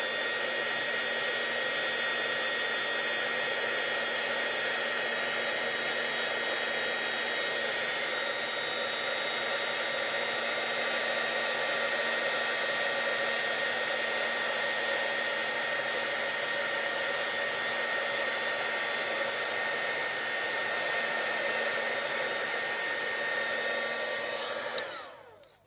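A heat tool blows steadily while embossing powder melts over a stamped image, a constant close airy roar holding unbroken for about 25 seconds before cutting off at the end, with no talking.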